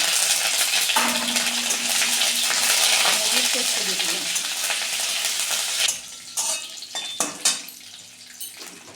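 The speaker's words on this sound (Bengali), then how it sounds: "এবার আমি দিয়ে দিচ্ছি 3টে কাঁচা লঙ্কা, আমি মাঝখান দিয়ে কেটে নিয়েছি। এবার আমি কারি পাতা দিচ্ছি।" Green chillies and curry leaves hit hot oil while dhokla tempering is prepared, giving a steady loud sizzle for most of the clip, then sharper clatters and stirring knocks of a utensil against the pan near the end.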